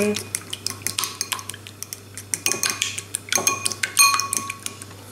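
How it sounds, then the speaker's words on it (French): Fork or whisk beating eggs for an omelette in a bowl, seasoned with salt and pepper for Cantonese fried rice: a fast run of sharp, close metallic clicks and scrapes against the bowl, steady and rhythmic with no talk. "je vais battre les œufs en omelette avec un peu de sel et un tout petit peu de poivre"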